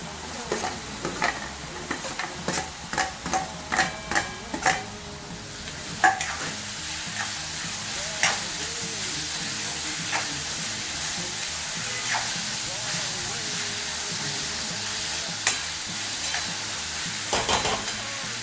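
Tomatoes fry in a pan for aubergine masala, with a spatula clacking in quick bursts early on and then a steady hiss and sizzle punctuated by occasional stirring scrapes.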